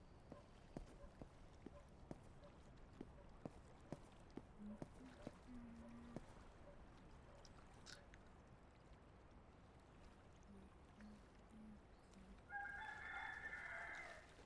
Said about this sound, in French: Il faudra que je trouve le coq.